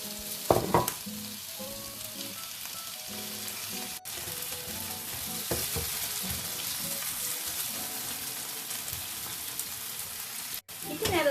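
Tomatoes going into a hot frying pan while cooking tortang talong, a loud sizzle and hiss flaring up near the start and holding steady throughout, with a few clattering knocks and a faint voice underneath.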